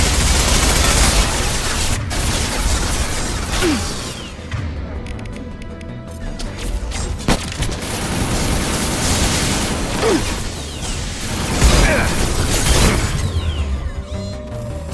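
Continuous gunfire from the Mass Effect 2 video game, with dense rapid shots, sharp cracks and heavier blasts in a loud, chaotic firefight that stays busy throughout and has no speech.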